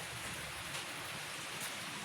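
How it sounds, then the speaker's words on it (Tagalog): Heavy rain falls in Japan, a faint, steady hiss of water pouring down with no voices, holding even throughout. "malakas ang ulan ngayon dito sa Japan"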